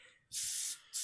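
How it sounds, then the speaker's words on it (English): Brake cleaner hisses from an aerosol can onto a minibike in two close, sharp bursts: a longer squirt, a short pause, then a second spray starting. "Bring one of those brake cleaner cans over here. Maybe there's enough in there to give her a squirt."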